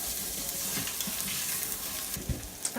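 Chorizo sizzles and fries steadily in a pot, a dense, continuous crackle at moderate level with a few louder pops near the end, no voices.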